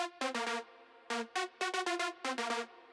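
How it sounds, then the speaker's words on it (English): A high-pitched, distorted classic techno synth preset plays alone in short, punchy stabbed notes and quick bursts, loud and close, with brief silent gaps between phrases. "It's a classic techno sound"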